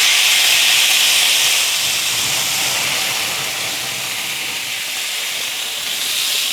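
Asparagus and Brussels sprouts go down on a warm griddle and give off a continuous bright hiss that starts strong and eases off slightly, with no talking.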